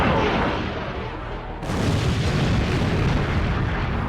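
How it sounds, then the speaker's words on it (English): The Death Star fires on the moon Yavin 4 and blows it apart: a dense, roaring blast that swells abruptly into a sustained, rumbling explosion, loud and all-enveloping, with no voices. "Yavin 4 blows to pieces"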